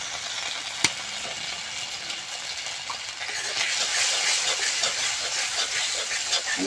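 Turmeric, chili and coriander powder frying in a pan for papad curry: a soft, steady sizzle and hiss that grows slightly louder midway, with a sharp clink near the start, no talking.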